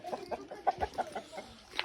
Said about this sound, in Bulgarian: вече имаме кокошки. Има и пител.